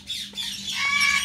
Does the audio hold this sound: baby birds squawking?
yes